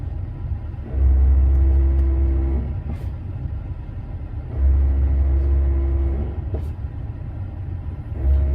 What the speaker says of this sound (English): it's shuttling all the valves in the ABS unit, and it'll actually push air up in through the master cylinder